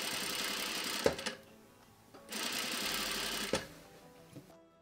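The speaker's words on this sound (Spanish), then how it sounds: "vamos a coserla cerquita de la costura, pero sin irnos a montar" A sewing machine stitches horsehair braid onto a wedding dress hem in two sustained runs, a close, steady mechanical whir with short clunks as it stops and starts, pausing briefly between bursts.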